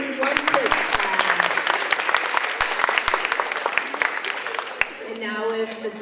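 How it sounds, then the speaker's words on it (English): Applause fills a school DARE graduation ceremony: steady, dense clapping from a crowd of many hands, sustained throughout and tapering slightly at the end. "Big round of applause for Mrs."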